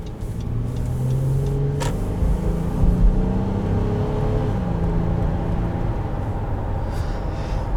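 A 2017 Honda Pilot SUV driving past on the road, a steady close rumble of engine and tire noise that swells slightly and holds throughout, with no talking.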